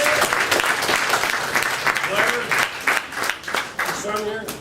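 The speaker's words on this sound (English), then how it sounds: "Give her a great round of applause" A crowd gives a school board member a big round of applause, loud, close, dense clapping with crowd noise and scattered voices, tapering into separate claps near the end.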